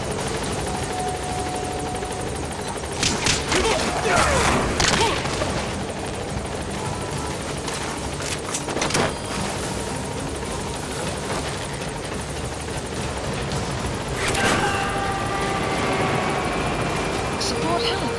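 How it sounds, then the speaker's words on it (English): A support helicopter in the game Metal Gear Solid V arrives for an extraction, its rotor and engine a steady roar throughout, with brief sharp effects and game voices over the top. "Support helicopter extraction arrived at Mother Base."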